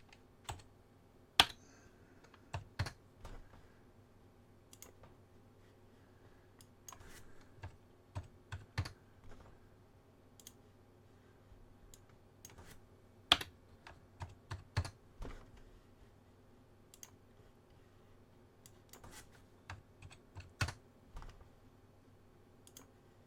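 Fingers tap on a computer keyboard in irregular bursts of quiet, close clicks with pauses between, a faint hum underneath and no speech.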